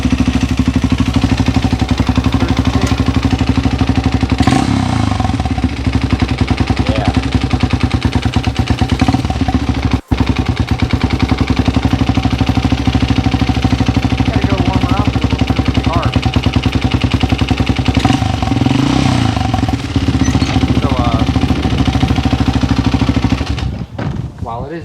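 Honda XR200 motorcycle, an abandoned bike just revived and quite rattly, revs hard close by in a steady loud roar with clattery mechanical noise throughout, dropping off briefly once before running on until near the end.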